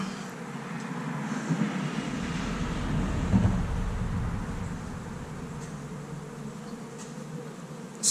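Honey bees hum around an opened hive during an early-season inspection: a steady, close, droning buzz with a low rumble of handling beneath it and a sharp knock at the end.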